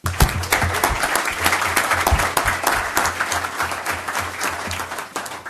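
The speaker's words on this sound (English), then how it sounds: "Another round of applause." A city council meeting audience applauds a high school hockey team, a lively, even round of many hands clapping that carries on for several seconds with faint low room hum beneath.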